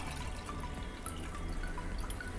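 Water pours into a beaker during a Hydrilla photosynthesis experiment, making a steady, low, continuous splashing and trickling sound at close range.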